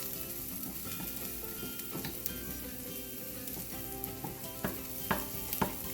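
Asafoetida, garlic and cumin sauté in ghee for a spinach dal, giving a soft, steady sizzle with light stirring taps and scrapes, close but fairly quiet, with no talking.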